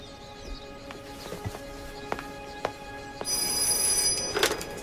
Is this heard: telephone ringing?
yes